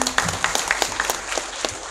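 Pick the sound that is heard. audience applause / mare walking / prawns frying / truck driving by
audience applause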